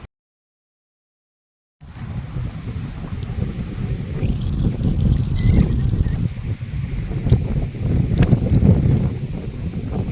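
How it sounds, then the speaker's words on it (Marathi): After a moment of silence, strong wind roars and buffets the microphone outdoors in Badlapur, loud and gusty, with no talking. "तुम्ही वाऱ्याचा फ्लो बघू शकता, एक जबरदस्त."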